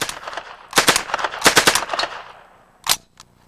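A mini submachine gun firing loud rapid bursts close by, two sustained strings of shots followed by a short pause and one last quick blast.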